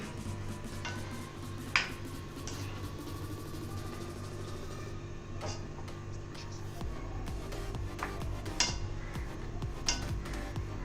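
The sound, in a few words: stirring grated coconut into rice gently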